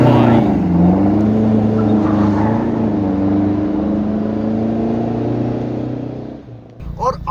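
A Toyota Fortuner with a stage 2 tune and a full system exhaust holds a loud, steady, droning rev that eases off near the end, followed by a brief, fainter burst.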